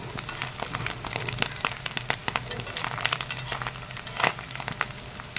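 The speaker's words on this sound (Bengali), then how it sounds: "সবগুলো একসাথেই ভাজা হতে বসিয়ে দিয়েছি আর একদম শুকনো শুকনো করে" Small fish frying together in a generous layer of hot oil in a pan, a steady dense crackle and sizzle with frequent sharp pops, close and continuous with no talking.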